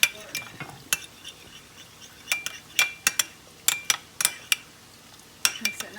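A utensil stirs burger sauce for a Western bacon cheeseburger in a bowl, giving irregular sharp clinks and scrapes against the bowl, close and fairly quiet, with pauses between strokes.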